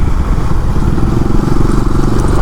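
A Kawasaki AX motorcycle engine runs steadily while being ridden, a loud, close, low rumbling drone with a fast, even pulsing and no pauses.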